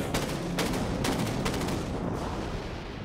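Warship autoguns and missiles fire in the naval video game Dreadnought, a dense continuous rumble of rapid gunfire with several sharper bursts and whooshing launches, loud and close, slowly easing off toward the end.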